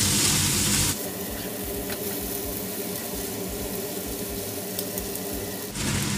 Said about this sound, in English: And now we will saute it.